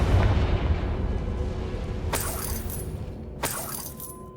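Two sharp, booming blasts from the Confringo explosion spell in Hogwarts Legacy, each a sudden crack with a shattering tail, spaced about a second apart over a low rumbling game backdrop.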